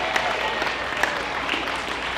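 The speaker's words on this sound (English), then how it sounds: "Once again, another round of applause for Tucson Japanese Language School" At the Tucson Japanese Festival main stage, a crowd applauds the Tucson Japanese Language School. The clapping sounds scattered and moderately faint, with a few sharper claps standing out against outdoor ambience.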